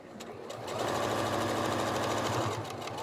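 Sewing machine stitching a seam on a reusable microwave popcorn bag, a steady close rapid mechanical chatter that rises quickly to full speed and runs on evenly for about two seconds before easing slightly, with no talk.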